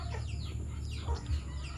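Chickens on a rural farm plot, a few soft, close clucks over a low background hum, brief and fairly quiet with no talking.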